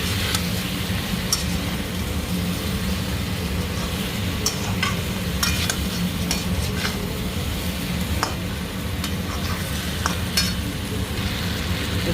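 Potatoes fry with spices in a pan for a bottle gourd and koi fish curry, giving a steady close sizzle with frequent clicks and scrapes of a stirring utensil. No one speaks.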